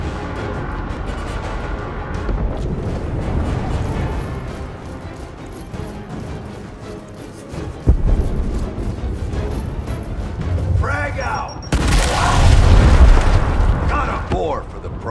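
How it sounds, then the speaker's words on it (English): A frag grenade detonates in the video game Gears Tactics, a loud low boom bursting near the end over continuous battle rumble, mechanical noise and game music, with voices talking earlier in the scene. "Clear them out with a frag grenade!"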